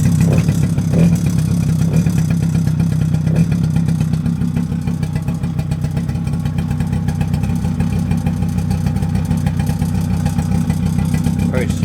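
A Suzuki LT50 two-stroke quad engine, needing a new plug, runs at a loud, close, steady buzzing idle with rapid pulsing throughout and faint clatter over the top.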